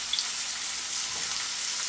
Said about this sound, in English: I'm going to go ahead and start browning the meat.